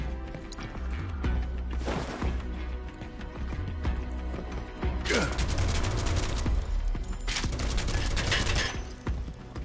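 Rapid bursts of gunfire in Final Fantasy 7 Rebirth, a dense crackling fusillade with two loud sustained volleys amid clattering mechanical game effects.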